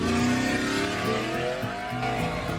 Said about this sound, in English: that V8 sounded pretty nice, didn't it?